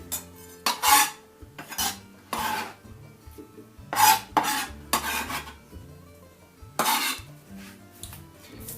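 A sharp knife cuts through fresh tomatoes, sending a series of scraping, rasping strokes against a board. The strokes come in uneven bursts with short pauses, close and clear with no talk.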